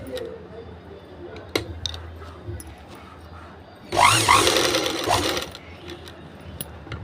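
A domestic sewing machine stitches fabric in a short close mechanical burst of a second or so, following quiet handling clicks. Someone speaks softly before the stitching starts.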